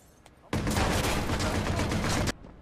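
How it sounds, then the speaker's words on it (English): Machine gun fire in the video game Watch Dogs: a loud, dense burst of rapid automatic shots lasting about two seconds, then stopping abruptly. "Is that a machine gun?!"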